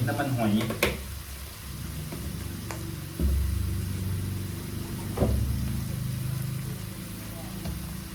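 Mussels stir-fry with holy basil in a wok, a continuous sizzle broken by several sharp clanks and scrapes of a spatula against the metal, with someone talking over the cooking.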